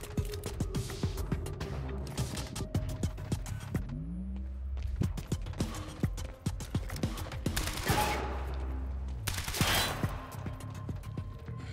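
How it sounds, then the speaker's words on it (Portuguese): Rapid bursts of submachine gun fire in the video game Quantum Break come in repeated volleys, with clicks and mechanical sounds between them. "Submetralhadora avançada."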